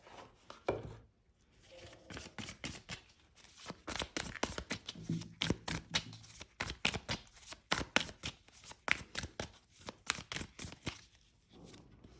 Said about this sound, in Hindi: ओके, तो हम मिक्स करते हैं कुछ कार्ड्स आपके लिए यहाँ पे।